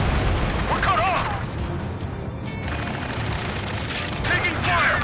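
Gunfire rattles in Ace Combat 7 during a ground firefight near a space elevator, with bursts of rapid shots and crashes filling the clip while shouting voices and radio chatter run over it.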